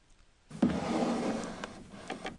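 A drawer sliding open in the Gabriel Knight 2 video game, a single rough wooden scrape lasting about two seconds, fairly close and alone.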